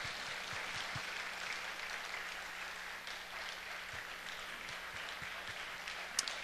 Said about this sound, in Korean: 우리 끝까지 격려의 박수 해주셨으면